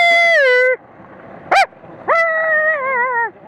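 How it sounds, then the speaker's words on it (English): A dog gives loud, high, drawn-out whining yelps, one sliding down in pitch, then a short sharp yip, then another long wavering cry, with quiet gaps between. "Look, he's starting to bark."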